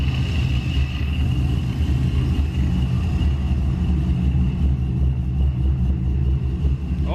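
A supercharged GMC truck engine fitted with a new vacuum block fires up for its first startup and revs, producing a loud, close, continuous low rumble that stays steady throughout, with no talking over it.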